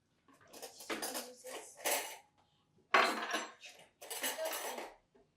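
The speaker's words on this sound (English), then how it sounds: "I'm gonna grab some forks." Metal forks are grabbed from a kitchen drawer in several short bursts of clinking and rattling cutlery, close and clear, with quiet gaps between handfuls and no talking.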